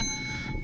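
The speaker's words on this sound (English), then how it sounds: "Hit the bell, please." A single bell ring on a radio talk show, one bright struck chime at the very end after a quiet moment, close and clear.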